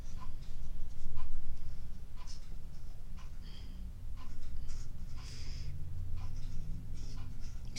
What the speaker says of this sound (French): Puis si je veux, à ce moment-là, je pourrais peut-être juste mettre un petit peu de couleur à mon bon Noël.